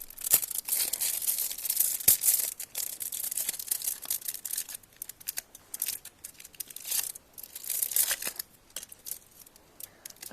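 Crinkling and tearing of a gluten-free chocolate bar's wrapper as it is opened by hand, with irregular crisp rustles and sharp snaps, close up and alone without talk.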